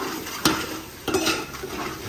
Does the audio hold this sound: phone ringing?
no